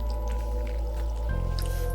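Wet squishing and dripping come from a giant sea slug being gutted by hand, a close, continuous slick sound over a steady low background hum.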